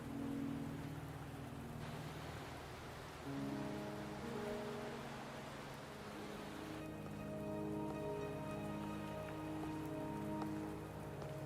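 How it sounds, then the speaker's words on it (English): Steady rain falls in the video game Journey to Mt. Firmament, a continuous hiss of drops on surfaces with sustained musical tones layered over it, no talking. "Are you trapped here by the rain?"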